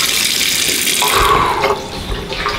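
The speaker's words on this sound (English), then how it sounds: "we also elevated the faucet a little bit up here. It's working perfectly." A bathroom sink faucet, recently raised higher, runs a steady stream of water into the basin, close and fairly loud, with a slight shift in tone partway through.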